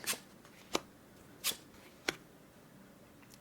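Playing cards are picked up and set down softly during a solitaire game in a quiet, close ASMR setting, with four distinct light taps and slides spaced about half a second apart.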